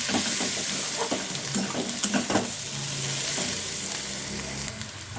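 Shredded cabbage drops into lightly fried onion in a hot pan, giving a loud, steady sizzle with scattered stirring scrapes throughout.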